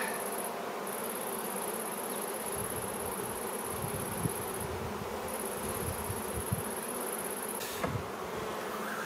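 Honey bees in an opened beehive give a low, continuous buzzing drone, fairly faint and close, with a few louder passes of individual bees and a steady high whine in the background.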